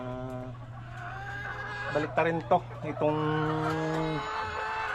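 Chickens in a coop cluck and call close by, with tonal, drawn-out vocalisations and short bursts of clucking while a person talks.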